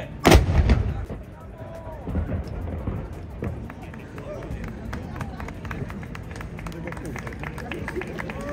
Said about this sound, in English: Load the gun! Fire!